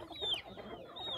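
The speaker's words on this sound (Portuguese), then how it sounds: "é criar galinha assim, solta" Free-range hens clucking on a rural farm pasture, a few soft, close clucks and squawks against quiet outdoor ambience.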